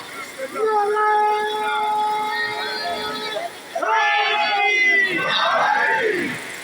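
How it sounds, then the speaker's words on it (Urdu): A large gathering at a Muharram majlis in Shah Kot raises a loud, sustained religious slogan in unison, voices holding long drawn-out tones, then swelling again in a second, rougher wave of chanting. "دیکھیں نعرے کی آواز"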